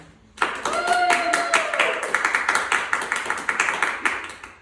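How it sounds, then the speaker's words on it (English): Guests at a baby naming ceremony break into applause, many hands clapping in a dense, steady burst that starts suddenly and keeps going. A sustained tone, probably a voice or music, runs under the early part of the clapping. "May I please invite you all to give a big round of applause"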